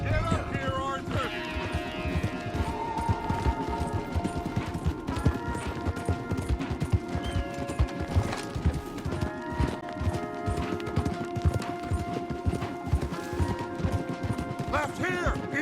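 Several horses gallop hard in Red Dead Redemption 2, a fast, continuous drumming of hooves close up, with clatter and a snort or whinny and shouted voices over the ride.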